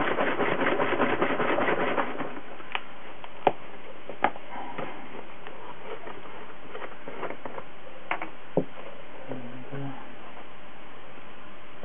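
Soft rubbing and light scuffing of a tissue pad applying sanding sealer to a laburnum and Corian pen, quiet and close, with a few sharp ticks and taps scattered throughout.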